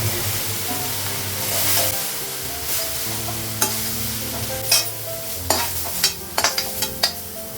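Panch phoron spices crackle and sizzle in hot oil in a pan over a lowered gas flame, a steady frying hiss with sharp pops and spatters clustering toward the end.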